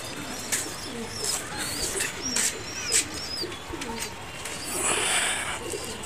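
Pigeons coo in low repeated phrases on an eighth-floor rooftop, mixed with scattered chirps and airy outdoor noise; the cooing is moderately close and continues throughout.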